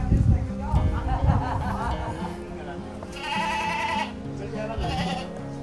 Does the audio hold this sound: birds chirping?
no